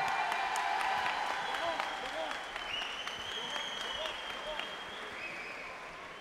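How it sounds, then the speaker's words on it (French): Crowd at a muay thai gala applauding fighter Laurent Carrère, clapping that starts strong and slowly fades, with an announcer's voice and whistle-like tones over it. "Des applaudissements pour Laurent Carrère."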